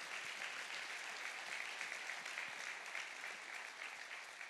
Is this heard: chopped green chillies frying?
no